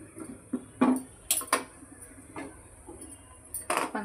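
Amla (Indian gooseberries) being set into a metal idli steamer pot, a series of sparse clinks and knocks of metal and small objects, close and moderately loud with pauses between, no talk.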